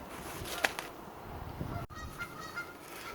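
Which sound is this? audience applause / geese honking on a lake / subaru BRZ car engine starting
geese honking on a lake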